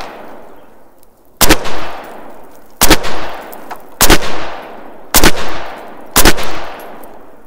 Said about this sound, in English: I'm going to go ahead and shoot up the 55 grain, doing the same thing.